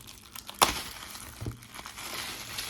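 Plastic packaging of a coin roll crinkles and rustles up close in short irregular bursts, with a sharper snap near the start, fairly quiet overall.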